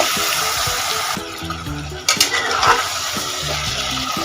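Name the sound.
stirring mutton with ginger-garlic paste and salt in pan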